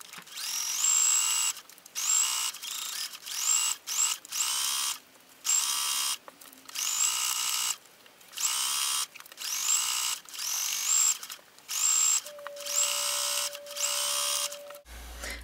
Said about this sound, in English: I'm now ready to sew, and I'm going to use the twin needle again